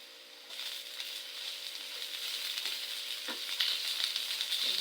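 Onion and onion leaf stir-fried in a pan with beef sizzle steadily and loudly up close, with occasional scrapes and clacks of stirring and no talking.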